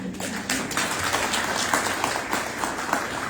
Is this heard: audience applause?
yes